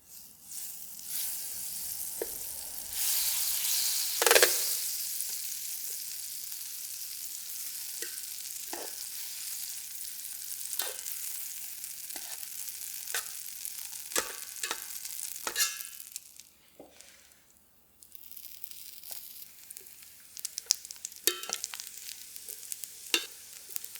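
Lamb and vegetables for Hokkaido Genghis Khan sizzle steadily in a pan heated without oil over a campfire, a continuous close frying hiss with scattered pops and crackles that briefly dips before resuming.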